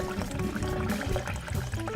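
Water poured into a pot around stuffed artichokes topped with breadcrumbs, a steady continuous pour and splash running throughout at close range with no talk.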